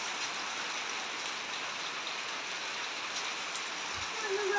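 Heavy rain beats down in a rural village, a dense unbroken hiss of drops on surfaces with a faint water trickle, steady and loud for several seconds.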